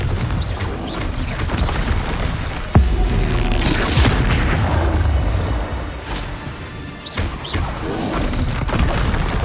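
Confringo explosion spells in Hogwarts Legacy, dense booming blasts and crashes layered over continuous combat noise, with a sharp impact partway through and loud rumbling throughout.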